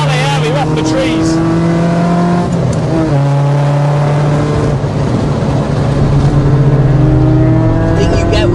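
A modified mk2 Volkswagen Golf GTI with individual throttle bodies drives through a wooded valley, its engine note loud and close, rising and falling through gear changes with a resonant rasp, a voice talking over parts of it.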